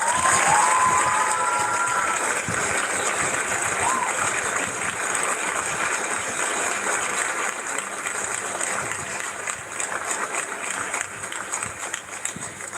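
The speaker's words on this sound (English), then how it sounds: "Give Miss Shaw a round of applause, ladies and gentlemen." Crowd applause and cheering from an audience at a live event, loud and sustained throughout, with a few shouts rising above the steady roar of claps before it slowly fades.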